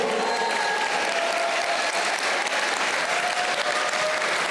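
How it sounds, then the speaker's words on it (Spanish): Steady, dense applause from a large church congregation fills the whole stretch, loud and continuous with no pauses. "juntos pudiéramos honrar al Señor, honrando sus vidas con un fuerte aplauso"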